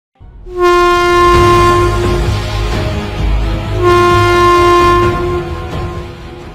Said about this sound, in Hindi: ट्रेन स्टेशन में दाखिल होती है